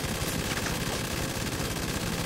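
Helicopter rockets fire in rapid succession in GTA V, a dense, loud, continuous burst of launches and roaring blasts filling the whole moment with no pause.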